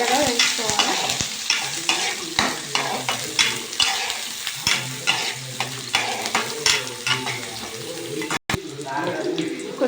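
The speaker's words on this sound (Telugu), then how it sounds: "నూనె వేడెక్కిన తర్వాత ఉల్లిగడ్డ పచ్చిమిరపకాయలు వేసి" Onions and green chillies fry in hot oil, a steady sizzle broken by repeated scraping stir strokes and a faint trickle of water, all heard close and without speech.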